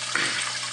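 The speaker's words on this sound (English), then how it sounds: "there's the auto top off again" Water from a reef aquarium's auto top-off pump pours steadily into the tank, a continuous close splashing flow that holds at an even level throughout.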